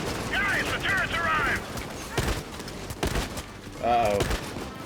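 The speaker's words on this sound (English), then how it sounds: "They called in a turret." Rapid turret gunfire in the heist video game Payday 2, a dense continuous burst of shots running under overlapping game voices and effects, loud and close throughout.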